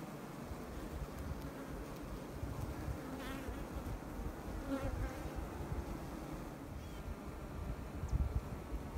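Honeybees buzz inside an open hive during an inspection, a dense, steady hum of many wings close by with faint wind noise underneath and no talk.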